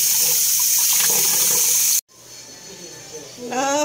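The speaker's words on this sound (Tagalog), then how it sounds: "Hugasan ko na siya maigi" Running tap water pours steadily over beef innards (tripe) being washed in a sink, a loud continuous hiss that cuts off abruptly, then resumes more softly with a faint voice.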